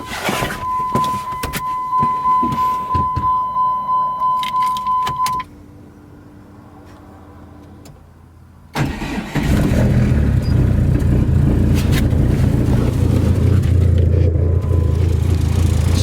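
A car engine, in a car fitted with a T850 transmission, cranks with a steady whirring starter, goes quiet, then fires and settles into a loud, steady idle that continues to the end, with no talk.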